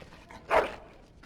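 A dog in the Dragon Age: Origins video game gives a single short bark, moderately loud against a quiet background with no voices.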